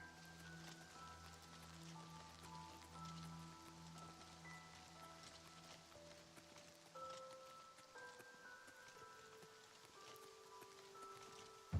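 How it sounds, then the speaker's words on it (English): Steady, soft rain patters in the video game Oblivion, a faint even hiss that runs under sustained game music throughout. "It really is always raining in this game"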